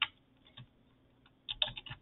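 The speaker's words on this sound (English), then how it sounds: "You just start typing," Computer keyboard typing during an Emacs text-editing demonstration: a few soft clicks near the start, then a quick burst of several keystrokes in the last half second, close and fairly quiet with no talk.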